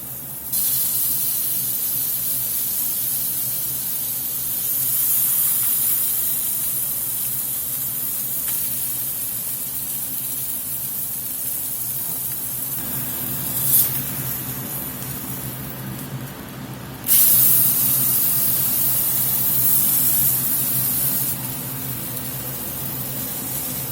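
Blackened catfish frying in a hot skillet gives off a steady, loud sizzling hiss that holds for the whole stretch, with a couple of brief sharper flare-ups partway through.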